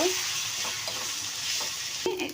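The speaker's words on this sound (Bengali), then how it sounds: "এবার আমি সুটকিগুলো দিয়ে দেব হালকা করে ভেজে নেব" Dried loitta fish frying with onions and oil in a pan, a dense, continuous close sizzle with faint stirring scrapes and a brighter clatter near the end.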